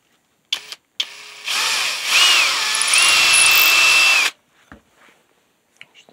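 A power drill with a larger bit whirs steadily for about three seconds, its pitch shifting slightly under load, with a few brief clicks before and after.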